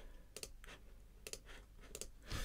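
A marker writes on a chart in a series of faint, quick scratching strokes and taps, separated by short pauses, with a slightly louder rub at the end.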